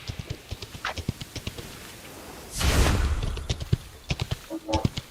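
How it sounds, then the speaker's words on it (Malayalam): Horse hooves in the BGMI battle-royale video game, a steady rhythmic clip-clop of galloping beats with a loud rushing whoosh swelling up midway. "കുതിര നല്ല സ്ലോ ആ."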